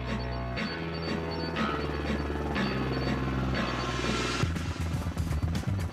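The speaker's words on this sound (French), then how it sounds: "Et hop, un petit saut depuis l'hélico, histoire de se mettre en jambe." A helicopter over snowy mountains carrying extreme skiers, its steady rotor thump and turbine whine loud and continuous throughout, with no talking.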